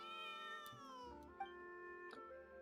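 A kitten meows in a video game, a drawn-out, pitch-falling call followed by a few shorter cries, clear and close with no talking over it.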